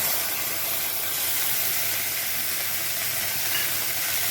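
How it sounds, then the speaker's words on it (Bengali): Ginger, cumin and green chili paste with whole cumin fries in a pan, making a steady close sizzle and hiss without pauses or talk. "এখন এটাকে একটুখানি ভাজা ভাজা করব"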